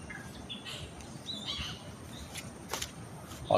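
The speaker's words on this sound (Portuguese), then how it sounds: "estão escutando o som da natureza, o som dos passarinhos" Forest birds call in scattered short chirps and whistles, faint and somewhat distant over a steady rustling outdoor background, with no talking.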